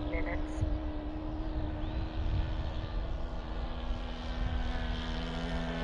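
A model Tiger Moth biplane with a four-stroke nitro engine flies overhead, giving a steady, continuous engine drone with a faint rising whine. It stays at a fairly even distance for the whole stretch, with a voice briefly audible under it.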